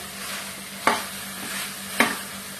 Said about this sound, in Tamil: ஒரு 2 நிமிஷத்துக்கு இது மாதிரி நல்லா காய வதக்கிக்கலாம்.